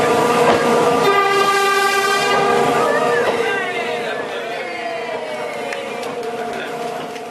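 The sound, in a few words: train hooter sounded by driver's assistant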